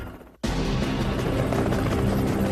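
A Coast Guard helicopter's loud, steady rotor roar kicks in abruptly after a short quieter moment and then holds close and constant.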